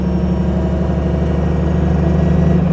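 A 1927 Mercedes 680S Tourenwagen engine running steadily, a deep, even rumble close by with a constant low throb and no change in pace.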